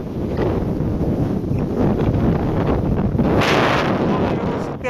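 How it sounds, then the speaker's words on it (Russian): Strong Patagonian wind in Argentina buffets the microphone, a loud, continuous roaring rush that swells and gusts throughout, with faint talk beneath. "А вот так выглядят знаменитые чилийские и патагонские ветра"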